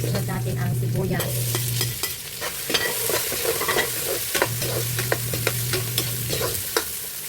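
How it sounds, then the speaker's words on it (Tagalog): Garlic and onion sauté in oil for beef caldereta, a steady close sizzle broken by repeated scraping and clinking of a spatula stirring in the pan, with a low hum coming and going underneath. "Igisa natin sa mantika."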